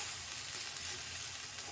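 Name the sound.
semolina (rava) roasting in a pan for upma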